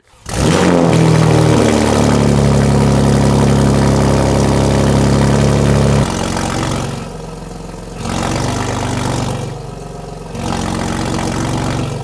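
A BMW G80 M3 with a 4-inch exhaust, catless downpipes and stock turbos fires up warm, first with a loud, heavy, droning high idle and then settling into a lower rumble with rhythmic swells.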